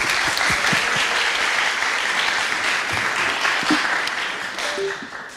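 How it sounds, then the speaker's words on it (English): An audience at a German-Brazilian EdTech hackathon's final presentations applauds team Learn to Learn, with steady, dense clapping from the crowd that holds throughout and eases slightly toward the end. "Clap your hands for Learn to Learn"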